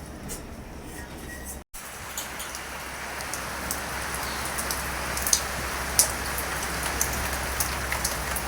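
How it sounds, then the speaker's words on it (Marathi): Heavy monsoon rain falling during the Ganesh Chaturthi festival, a dense steady hiss of drops that builds after a brief cutout and stays loud, with occasional sharper drips. "हे बघा पाऊस येतोय चांगलाच."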